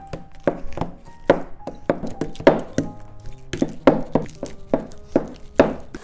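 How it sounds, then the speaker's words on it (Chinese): Taro being chopped into a paste with a cleaver on a board, a series of sharp, close, uneven thuds in quick bursts, no voices. "然后我们现在把芋头剁成泥"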